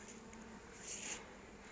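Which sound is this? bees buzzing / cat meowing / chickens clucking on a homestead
bees buzzing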